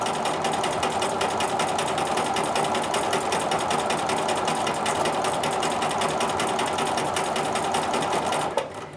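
A sewing machine quilting straight grid lines across a quilt runs in one steady, loud, continuous stitching drone with a fast needle rhythm, alone throughout and easing off just at the end.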